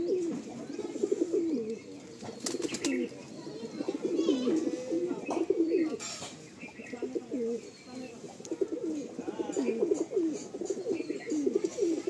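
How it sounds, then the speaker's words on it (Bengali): Several female Kalanka pigeons coo continuously at close range, their low throaty calls overlapping, with occasional clicks and soft rustling. "এটা মাদি পায়রা"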